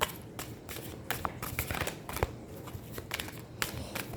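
Tarot cards are shuffled and handled close up, with a series of soft papery riffles, flicks and taps in an irregular rhythm, fairly quiet and with no talking.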